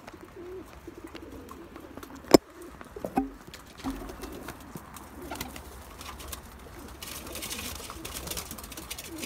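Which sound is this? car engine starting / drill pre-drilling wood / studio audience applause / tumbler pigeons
tumbler pigeons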